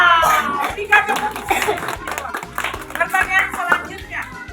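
A group of elementary school pupils in a classroom does a patterned group clap, with sharp hand claps in quick rhythmic bursts close by and voices chanting along throughout.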